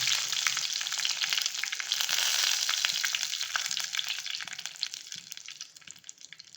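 Mustard seeds and curry leaves spluttering in hot oil while a prawn roast is cooked, a steady close sizzle with rapid crackling pops that gradually thins and quietens toward the end.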